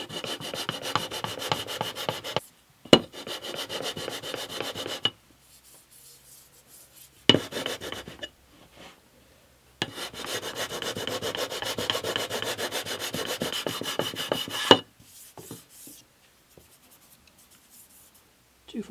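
Sandpaper rubs back and forth along an acoustic guitar fretboard being finished, producing close, dry, rasping strokes in bursts of several seconds separated by short pauses.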